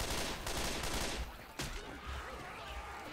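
Rapid gunfire from Left 4 Dead 2 zombie-shooting gameplay comes as dense, loud bursts of shots with a sharp report partway through.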